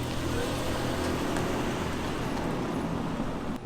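A V12 Toyota Century driving past outdoors after a paint correction, a steady broadband engine and road rush held at an even level for several seconds before briefly dropping off at the end.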